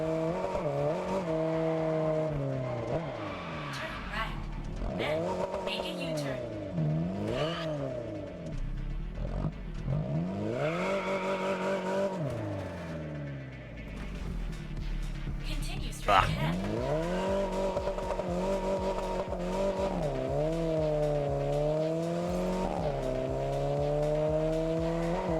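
Off-road-tired car in the racing game TDU Solar Crown, its engine revving steadily up and down with rising and falling pitch and brief tire skids, loud and continuous throughout, with someone talking over it.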